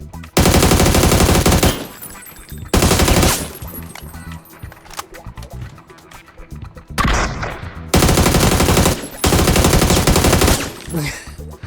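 Heavy automatic gunfire in the battle-royale shooter PUBG, loud sustained bursts of rapid shots separated by brief quieter gaps, with no talk over the firing.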